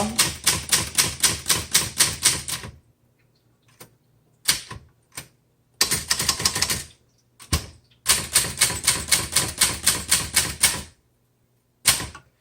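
A 1968 Adler Universal 20 desktop typewriter with German keys being typed on: bursts of rapid, evenly spaced mechanical key strikes, separated by pauses and a few single clacks, loud and close.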